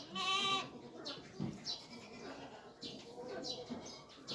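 Goats bleat on a farm, close and loud, several strained cries repeating with bird sounds and scattered rustling behind them.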